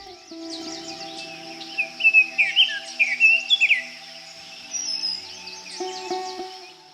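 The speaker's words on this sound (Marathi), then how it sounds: "पक्ष्यांचे आवाज" Several birds chirp and trill in quick bursts, fairly close, over a steady faint hum, with no talking, in a fog-covered forest in Sindhudurg in the morning.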